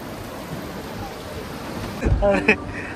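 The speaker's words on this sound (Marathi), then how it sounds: "लय बाहेर पाऊस पडतोय खतरनाक" Heavy rain falls outside a house as a steady, even hiss, and a voice cuts in near the end.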